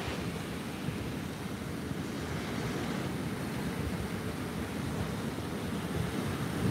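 Pacific Ocean surf breaking on the shore, a steady broadband wash of waves with low rumble and wind buffeting the microphone, continuous and fairly soft, no voices.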